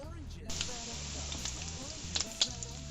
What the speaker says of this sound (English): I've got the bacon frying over low heat.